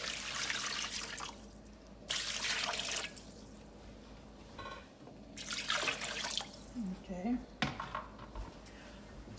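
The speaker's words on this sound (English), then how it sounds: "I'm going to go ahead and add the water to this." Water poured into a cooking pot for Liberian fufu and soup, splashing and trickling in bursts with clanks of the pot, close by, with a brief spoken word.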